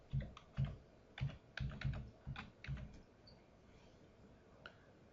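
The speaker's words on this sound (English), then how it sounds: "So here we're going to type in a Florida Hardware item number." An item number is typed on a computer keyboard, a short run of soft thumping keystrokes close by, then quiet room tone.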